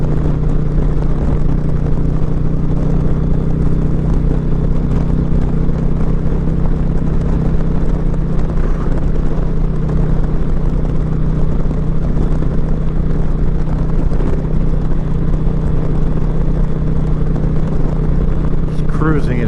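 A 2021 Indian Challenger Limited motorcycle at full throttle in fifth gear gives a steady, loud engine drone with continuous wind roar, unbroken across the whole stretch.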